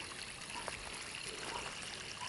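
Water trickles steadily over a small dam built in a garden bed, a soft, continuous faint wash with no other sounds.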